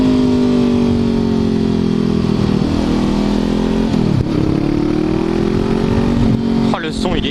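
A red 2016 Honda CBR 500 R motorcycle engine runs up close, loud and rumbling with a rising and falling drone as the revs shift, continuous throughout.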